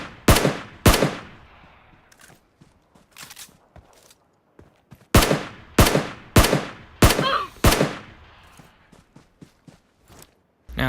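Gunfire in a PUBG Mobile firefight at night, fired mostly in single-shot mode: sharp, loud cracks come in spaced bursts of one or two shots with quieter distant reports between them, and no voices.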